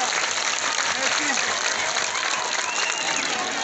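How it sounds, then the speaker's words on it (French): Steady applause from a crowd, an even wash of clapping that holds at the same level throughout without pauses. "On applaudit pour nous."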